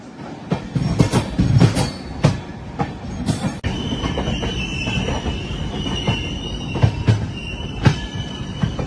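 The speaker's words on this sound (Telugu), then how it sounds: "మన ట్రైన్ అలా బయటకు వెళ్ళిపోతుంది." The Tirupati to Hazrat Nizamuddin Rajdhani Express runs through Jhansi station with loud rhythmic wheel clatter, clicking joints and a thin squeal, heard close from on board.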